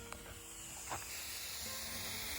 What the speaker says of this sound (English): That is air being sucked into the tote.